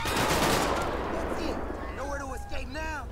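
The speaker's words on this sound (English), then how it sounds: "Oh, shots fired." Rapid automatic gunfire in GTA 5 crackles loudly through the first half, with sirens or radio tones and voices over the tail of the exchange.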